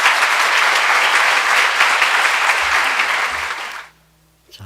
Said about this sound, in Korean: 교수님 나오실 때 큰 박수로 맞아주시면 감사하겠습니다